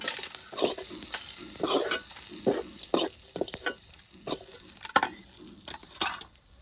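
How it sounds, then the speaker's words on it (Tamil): Ingredients lightly fried in a little oil in a pan for an Erode-style country chicken thanni kulambu, a steady soft sizzle broken by repeated scraping stirs at an uneven rhythm, close and moderately loud, with no talking. "லேசாக வறுத்து எடுத்துக்கலாங்க"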